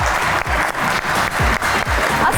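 A television talk-show studio audience applauds to welcome guests, steady close clapping from many hands with a slight pulsing rhythm, loud and with no voices over it.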